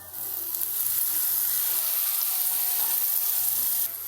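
Tomatoes hit a hot pan of radish curry with a steady, bright sizzle that holds loud for several seconds before easing off at the end.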